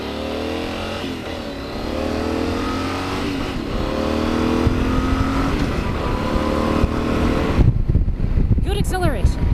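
A 2023 Yamaha Super Tenere 1200 adventure motorcycle accelerates hard from a stop, its engine note climbing steadily through the gears, loud and close under wind, with a rider's voice briefly at the end.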